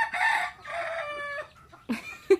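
Chickens on a farm cluck and crow in a short burst of bird calls, loud and close, with a brief gap before a final squawk.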